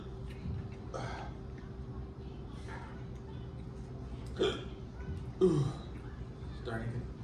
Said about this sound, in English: Starting to get the hiccups.